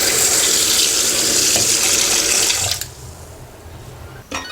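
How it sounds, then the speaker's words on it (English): Running water pours into a bowl of rice being soaked for Cantonese porridge, a steady broadband gush that stops abruptly near the end, followed by a brief splash; no talking. "Soak the rice with water for 1 to 3 hours."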